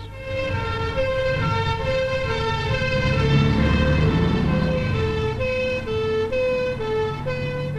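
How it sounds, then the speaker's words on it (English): An ambulance siren wails in a steady two-tone pattern, loud and continuous, alternating pitch throughout with low traffic rumble underneath. "An ambulance."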